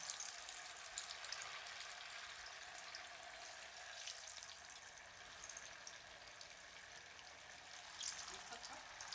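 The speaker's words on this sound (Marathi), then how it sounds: "आता आपण तेल चांगलं कडकडीत तापून घेतले, गॅस बारीक केलाय. आता आपण त्याच्यामध्ये वडे सोडू." Sabudana vadas sizzle in hot oil over low heat, a faint steady crackling hiss with small pops and bubbling, continuous and quiet with no talk.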